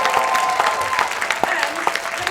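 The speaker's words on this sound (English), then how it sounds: "can we have a big round of applause now?" A film festival audience breaks into steady applause indoors, a dense wash of clapping with a few voices mixed in.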